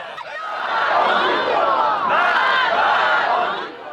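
A large crowd gathered in central Tehran, Iran, chants loudly in unison at a political rally, the massed voices rising and holding steady throughout with a brief dip partway through.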